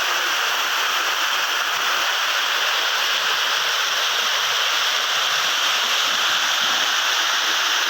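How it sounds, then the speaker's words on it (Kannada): Water pours continuously from Tusharagiri waterfall, a loud, broad rushing roar that fills the scene with no pauses. "ಈ ಒಂದು ಫಾಲ್ಸು ಬಹಳ ಜಲಪಾತ ಬಹಳ ವಿಭಿನ್ನವಾಗಿದೆ"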